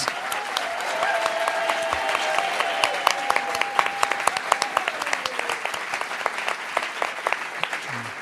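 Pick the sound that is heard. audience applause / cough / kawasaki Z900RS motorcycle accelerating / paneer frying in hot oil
audience applause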